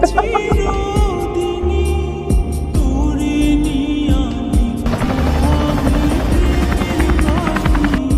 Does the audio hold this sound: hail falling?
no